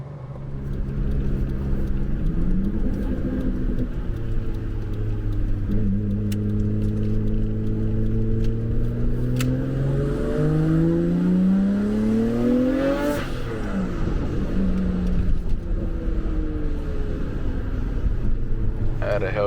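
A 700-horsepower silver Nissan GT-R R33 V-Spec, a daily-driven car, drives along with its engine droning steadily and its pitch rising and falling through the gears. Speech is mixed in throughout.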